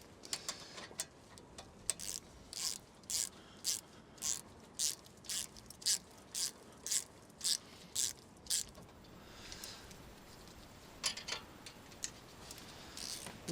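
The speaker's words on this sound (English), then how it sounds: "With a 13mm socket and a 17mm spanner" A ratchet with a 13mm socket turning a brake slider pin during a front brake pad change, with a steady series of crisp, evenly spaced clicks, then a pause and a few more clicks, close and quiet with no talk.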